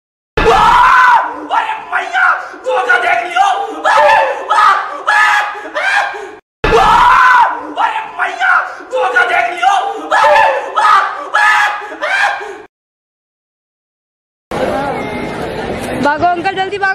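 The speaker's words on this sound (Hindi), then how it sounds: "बहुत भीड़ है यार, बहुत भीड़ है" Dense, noisy crowd packed into Sarojini Nagar Market in Delhi, with loud overlapping chatter, shouts and bursts of yelling running almost continuously, broken by a short silent gap before the din resumes.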